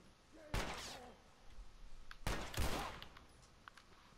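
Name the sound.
gunshot in the video game The Last of Us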